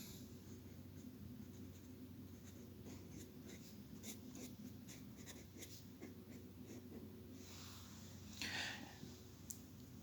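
Pen or marker writing mathematical notation for a limit definition, a steady faint scratching of strokes over a quiet background, with one slightly louder scrape near the end.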